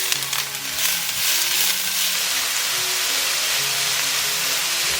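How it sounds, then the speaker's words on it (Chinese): Shredded radish is stir-fried in a wok with oil and toasted dried shrimp. A steady, loud hiss and sizzle runs throughout, with faint clinks of stirring. "然后把萝卜丝放进来翻炒"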